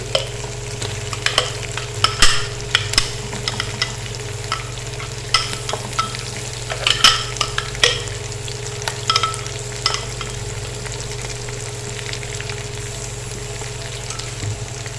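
Blended spice paste for a wedding-style korma hits meat in a hot pot, giving a steady close sizzle of frying with repeated scraping clicks of stirring throughout, no talk.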